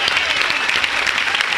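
A church congregation at an evangelistic healing service bursts into brief, dense applause, a steady close wash of many hands clapping with faint voices mixed in.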